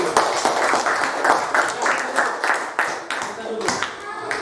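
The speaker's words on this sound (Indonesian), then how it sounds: "Luar biasa, tepuk tangan dulu." Primary school pupils in a fourth-grade classroom clap together in rhythmic, patterned bursts, close and loud, with a few voices and shouts mixed in.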